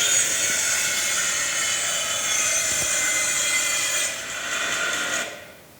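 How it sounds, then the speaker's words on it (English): A bandsaw cuts a quarter-sawn white oak platter blank round, giving a steady, close buzzing whir with a bright rasp that dips briefly near the end and then fades as the cut finishes, with no voices. "I'm going to cut it round on the bandsaw"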